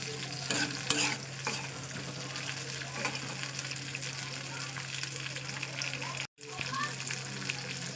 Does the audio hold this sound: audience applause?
no